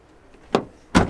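A 2008 car's door at an auction is worked from the outside, giving two sharp metallic latch clunks about half a second apart, close and loud with no talk.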